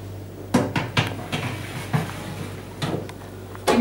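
Pumpkin-orange cupcakes go into an oven heated to 180 degrees, set on the middle rack: a string of close clattering knocks and metallic clunks from tins and oven racks at an uneven rhythm over a low hum, with no voices.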